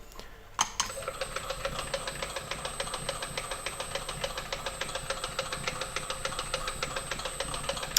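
A peristaltic pump motor runs steadily at reduced speed, giving an even, rapid ratcheting tick after a brief click at the start, close and moderately quiet with no voices.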